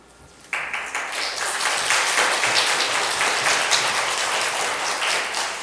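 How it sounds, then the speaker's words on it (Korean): A church congregation applauding to welcome a pastor to the pulpit, dense sustained clapping that starts abruptly and holds steady throughout, filling the room. "목사님이 나오실 때 큰 박수로 맞아주시기 바랍니다."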